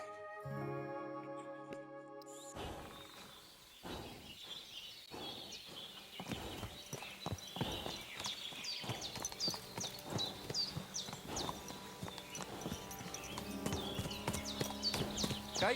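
Horse hooves clip-clop in Kingdom Come: Deliverance 2, a steady walking rhythm of hoofbeats near the listener following a brief musical intro, with faint outdoor ambience and an occasional whinny.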